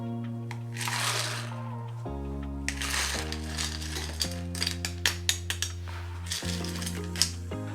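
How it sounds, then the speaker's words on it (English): Fresh crushed ice clatters and crunches into a double rocks glass holding a Mai Tai in a few bursts, with scattered clinks, over steady background music. "Grab some more fresh crushed ice."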